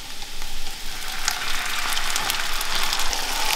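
Diced tomatoes hit a hot pan with a steady, moderately loud hiss and crackle that holds evenly throughout, with no voices over it.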